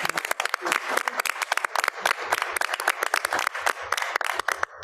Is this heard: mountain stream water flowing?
no